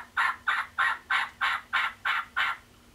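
A mouth turkey call with a standard jaw imitates a gobble as eight evenly spaced, sharp rattling yelps that pulse loudly and clearly with no talking.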